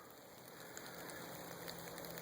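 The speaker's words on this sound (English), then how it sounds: "it's actually starting to get a little bit more rain" Light rain patters steadily on surfaces around a hiker outdoors, a faint continuous hiss with scattered drops and no talking.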